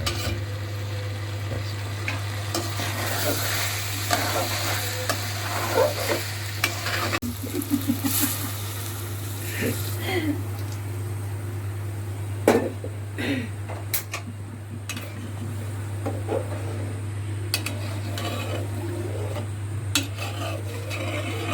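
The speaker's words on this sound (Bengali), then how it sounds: "হ্যাঁ, চালটাকে একটু কষাই নিলাম মাংসের সাথে" Rice being stirred and sautéed with meat in a pot, with a soft continuous sizzle, scraping spoon strokes and occasional clinks of utensil against metal over a steady low hum.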